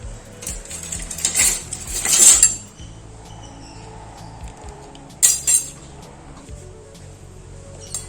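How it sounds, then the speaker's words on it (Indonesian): A spoon stirs an orange Nutrisari drink in a glass, giving bright clinks and scraping rattles in two bursts with quieter pauses between, close and clear with no talking. "Dan kita aduk sampai rata."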